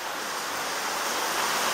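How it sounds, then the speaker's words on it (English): A steady, loud gush of water rushes down a stream inside CC Cavern, a dense broadband roar that swells slightly without pause, with no voices. "I just heard a rumbling and a gush of water came rushing down here"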